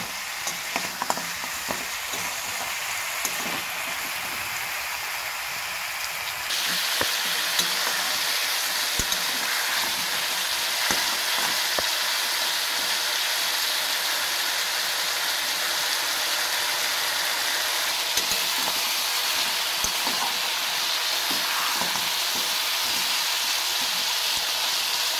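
Mutton leg masala being stir-fried in a pan gives a loud, continuous frying hiss with scattered clicks from stirring, and it stays even for a long stretch without any voices.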